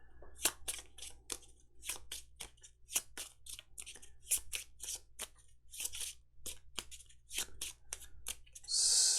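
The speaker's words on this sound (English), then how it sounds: "Shuffle the discard pile into the encounter deck." A deck of game cards for a living card game is shuffled at close range, giving a rapid run of crisp riffling clicks and flutters that repeat steadily for about nine seconds with no talking.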